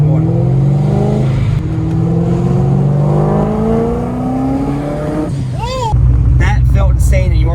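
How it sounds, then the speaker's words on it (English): An 800 hp base C6 Corvette revs hard on the street, its engine note climbing in long sweeps before the blow-off valve chatters and whooshes on lift-off, loud and close with people talking over it. "Dude, that blow off sounds so sick."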